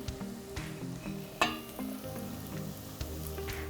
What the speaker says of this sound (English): At this time, we're going to go in with our baby clams.